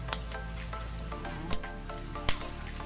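Duck kaldereta with red pepper and pickles sizzles steadily in a pan, with a few sharp clacks of a spoon stirring it at irregular intervals; no voices.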